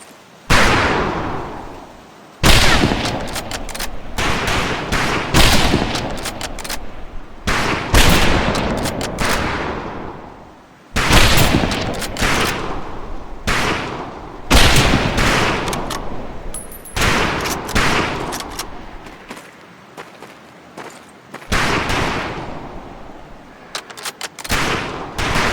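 Volleys of rifle gunfire on a firing range in Medal of Honor: Pacific Assault, loud overlapping bursts and sustained crackling salvos separated by short pauses, close and harsh.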